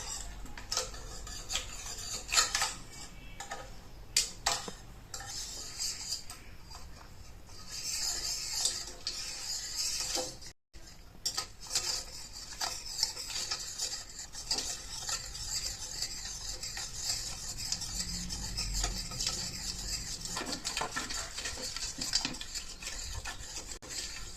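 Cream being stirred with ice cubes in a bowl to make homemade butter, a continuous busy scraping, clinking and rubbing from the utensil and ice, close and steady throughout with one brief pause.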